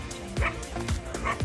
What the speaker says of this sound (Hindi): एक कुत्ते को लग रहा है कि मैं पता नहीं कौन आ गया हूँ, तो ये भोंक भोंक रहा है मुझसे।